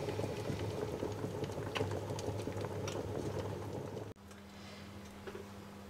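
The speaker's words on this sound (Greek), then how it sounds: "Όπως είπαμε λοιπόν θα τα αφήσουμε να βράσουν για 10 λεπτά." Water bubbles vigorously in a pot at a steady boil with jars submerged, then cuts off abruptly, leaving a quieter low hum.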